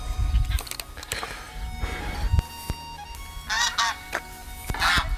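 Geese honk outdoors beside an open-fire cooking setup, several loud, irregular calls in bursts with rustling and knocking noises between them.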